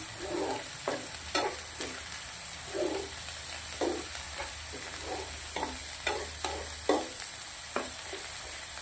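Red chili powder being stirred into frying masala in a pan, a steady sizzle with repeated scraping strokes of a spoon at an irregular rhythm, close and clear with no voices.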